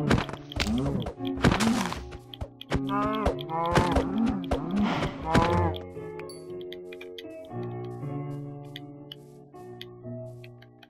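Cow mooing in Minecraft survival play, a run of blocky game moos over soft background music, with short thunks and ticks scattered through.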